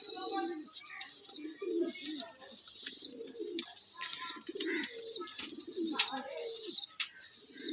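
Banded pigeons kept by a hobbyist coo in soft, repeated low phrases with chirps and a high whistling tone above, while someone talks nearby.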